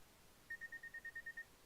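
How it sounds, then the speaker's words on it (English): A phone alarm sounds as a quick series of about nine short, evenly spaced electronic beeps, faint and alone, lasting under a second. "That was an alarm I had on my phone"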